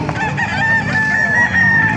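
Roosters crow and chickens cluck nearby at a poultry market in Calumpit, Bulacan, Philippines, with a drawn-out cock-a-doodle-doo over a busy clamor of poultry.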